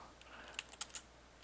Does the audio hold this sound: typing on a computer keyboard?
yes